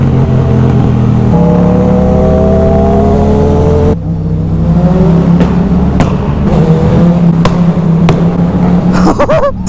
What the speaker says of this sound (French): C'est quoi cette moto? C'est un lance-flamme.